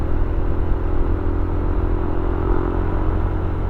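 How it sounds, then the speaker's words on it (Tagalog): A Suzuki motorcycle engine drones steadily and loudly as it rolls past on a road in the Philippines, a continuous low hum with a slight rattle and no talk over it. "Ganda ng motor na yun, Suzuki Abinis."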